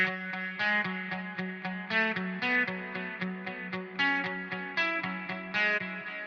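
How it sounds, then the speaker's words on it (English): Guitar run through the Will Putney amp simulator's clean preset with gain fully down, still carrying slight distortion: a steady rhythmic pattern of picked, chugging notes and chords, played alone and fairly quiet. "Definitely still has some distortion to it."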